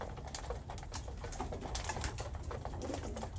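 Pigeons in a loft, including a fine cock bird, give soft low cooing against a steady busy background, with small rustles and calls scattered throughout at moderate loudness.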